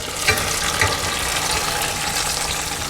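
Brown sugar stirred into melted butter in a pan over medium heat for butterscotch bars, a continuous close bubbling sizzle with faint scraping as the mixture is worked.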